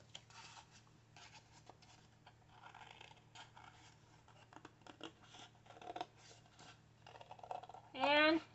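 Paper being cut with scissors, faint snips and rustling close by, with one louder snip near the end, under a low steady hum; speech is present.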